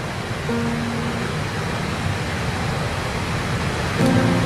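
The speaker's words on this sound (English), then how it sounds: "Hearing the sound of waterfall" Waterfall on Langkawi heard up close as a steady, broadband roar of falling water, continuous and loud throughout, with faint tonal hints in the background.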